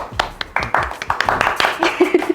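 Close hand claps ring out in an uneven scattered rhythm during an Indonesian lockdown livestream, mixed with brief voice sounds.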